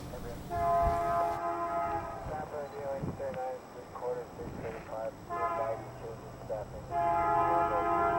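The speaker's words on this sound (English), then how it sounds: "The Burlington Northern Santa Fe train switches to the middle track as it moves under the signal bridge at Summit." A BNSF freight container train at Summit in Cajon Pass, at 4,190 feet, sounds three long, loud horn blasts as it crosses to the middle track under a signal bridge, with a rolling rumble and someone talking in between.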